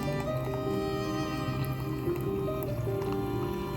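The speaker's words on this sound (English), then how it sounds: "The sound of hot water filling your favorite hot cocoa cup" Hot water from a coffee maker pours steadily into a hot cocoa cup, a continuous close trickling with a rising tone as it fills.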